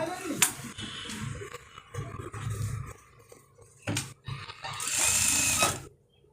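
A sewing machine stitches a side pocket on a kalidar panjabi in short mechanical bursts, with a longer loud run near the end. It sounds close and clear, with quieter handling noise between the bursts.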